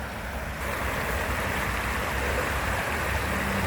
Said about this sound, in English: Look how the creek right here like runs off in this little area.